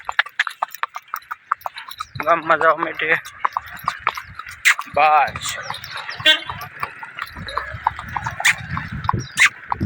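A mare being ridden along a road, her hooves clip-clopping in a steady close rhythm while people talk over it throughout.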